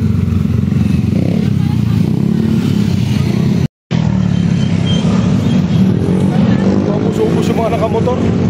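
Heavy highway traffic with many motorcycles streaming past on a mountain road in Infanta, Quezon, a continuous loud engine drone with revving, plus crowd chatter, and a brief dropout midway.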